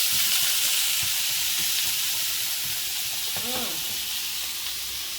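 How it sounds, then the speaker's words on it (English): Diced sweet potato sautés in garlic in a hot pan, giving a loud, steady, close-up sizzle and hiss that runs unbroken from start to finish. "Just the sweet potato sauteed in the garlic"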